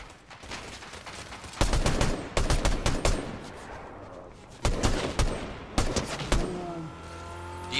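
Bursts of gunfire ring out in Fortnite, several rapid volleys of close, loud shots separated by short gaps, with a lighter rattle of game sounds between them.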